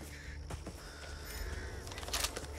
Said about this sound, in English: Watch out, birds!